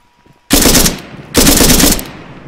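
Gunfire in ARMA 3: two loud, close bursts of automatic fire, each lasting about half a second, separated by a short gap and standing alone in near silence.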